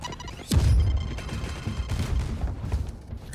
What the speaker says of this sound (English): Let the turret do the work.